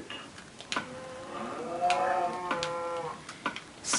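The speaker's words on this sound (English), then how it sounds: "Stupid cows." Cows mooing in Minecraft on Xbox 360: one drawn-out, wavering low moo lasting about two seconds, clear and moderately loud, framed by a few short clicks from gameplay.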